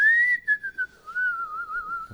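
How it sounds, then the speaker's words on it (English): A person whistles a tune on a morning show: one clear, sustained melodic whistle that glides and wavers in pitch for about two seconds, close and alone with no talking. "Why don't you whistle a tune for us?"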